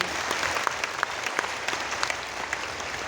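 Loud audience applause for Dr. Archika Didi at a Sanatan Dharma gathering, dense continuous clapping from a large crowd filling the whole stretch evenly, with no voices on top.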